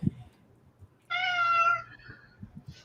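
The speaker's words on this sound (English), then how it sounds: "The cat agrees." A pet cat gives one clear, drawn-out meow lasting under a second, close and fairly loud against a quiet room with faint background noise.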